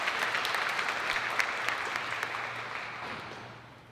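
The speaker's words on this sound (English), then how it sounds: "let's give our families a round of applause for their dedication" Commencement audience applauding graduates' families at a university ceremony, with a full, steady wash of clapping across a large hall that gradually thins and fades toward the end.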